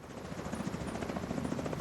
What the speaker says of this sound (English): There's the other chopper.